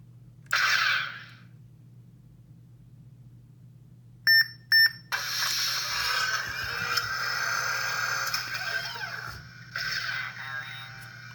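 A Han Solo DL-44 blaster prop beeps as its menu is entered: a short electronic tone, a silent gap, two quick beeps, then a longer warbling electronic sound effect that swells and fades, fairly faint, with no talking.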